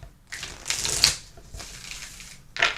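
A deck of tarot cards is riffle shuffled nearby in a few quick, crisp bursts of fluttering, snapping paper with short pauses between them.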